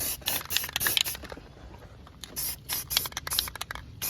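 Bursts of aerosol spray paint hiss in short, repeated passes as light coats go onto the engine bay of a built 2JZ-powered IS300, close and fairly loud, with brief pauses between sprays.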